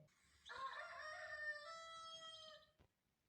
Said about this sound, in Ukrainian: Так, півник співає кукаріку